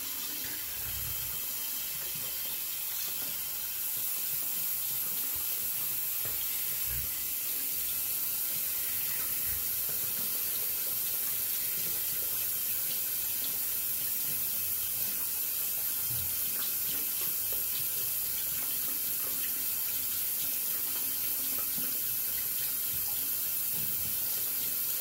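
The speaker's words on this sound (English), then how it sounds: "And we'll go ahead and rinse the brush well." Tap water runs steadily and loudly into a sink as a shaving brush is rinsed, making a continuous close splashing rush that lasts throughout with no talk.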